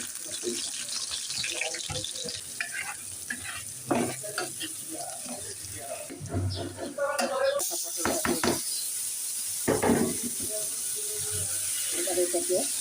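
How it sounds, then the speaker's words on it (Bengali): Small nigella seeds fry in hot mustard oil in a home kitchen pan, a steady sizzle with stirring clatter and bursts of scraping, running through the whole stretch with a voice speaking at times. "সরিষার তেলটা গরম হয়ে আসলে কালি জিরাটা হালকা একটু ভেজে দিচ্ছি"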